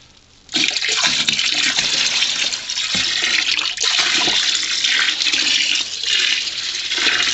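Tanning liquid for a deer skin is poured into a container, a sudden loud, steady gush that begins after a brief quiet moment and continues with a rushing, splashing flow until the end.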